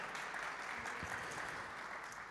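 Audience applause at a Brazilian legal panel on administrative sanctions law, a short burst of continuous clapping from a crowd, moderately loud, with no talk over it.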